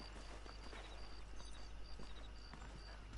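Horse hooves clip-clopping in Red Dead Redemption, a quiet, steady walking rhythm of soft hoof falls under faint ambient game sound.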